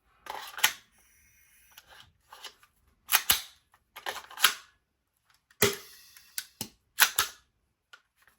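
A Novritsch SSP28 gas blowback airsoft pistol with its slide not cycling properly, firing a series of sharp, close, irregularly spaced cracks and clicks, about a dozen in all, with quiet gaps between.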